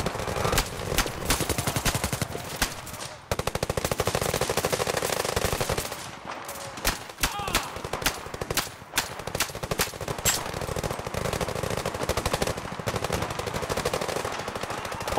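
Rapid automatic gunfire from the video game Zero Caliber rattles in long, dense bursts that run nearly nonstop, with only brief pauses between volleys and no speech.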